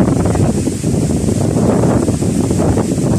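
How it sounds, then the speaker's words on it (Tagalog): Strong wind at Bolabog Beach, Boracay roars steadily against the microphone, a loud continuous buffeting rumble with no voices. "malakas yung hangin"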